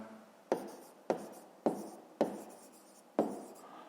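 Pen strokes on paper as an answer is written out by hand, five sharp scratchy strokes at a steady pace, close and quiet.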